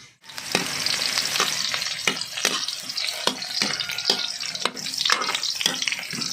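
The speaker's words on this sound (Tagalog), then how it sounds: "gigisa na natin yung ating isda. Lalagay ko muna ba yung bawang at saka yung tawag dito, luya" Garlic and ginger sizzle in a fair amount of oil in a pan while fish sinigang with talakitok head is being cooked, giving a steady loud frying hiss broken by sharp scraping stir strokes and clinks of a utensil.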